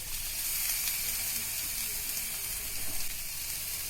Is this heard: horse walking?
no